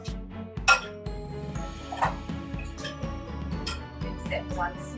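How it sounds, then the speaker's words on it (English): Food ingredients tossed in a bowl make light clinks and clatters of utensils against the dish, in scattered bursts under a person talking throughout. "Okay, you just toss it in here. And we give it a nice little toss"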